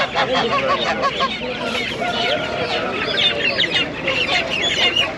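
Chickens cluck busily and continuously at a poultry market in Taşköprü, Kastamonu, Turkey, a loud, close flock with overlapping calls.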